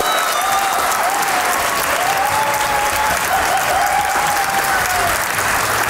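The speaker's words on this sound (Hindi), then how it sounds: "तालियां बजती रहनी चाहिए भैया।" Sustained studio audience applause from a Pakistani comedy talk show, dense steady clapping that fills the whole stretch at even loudness with no speech over it.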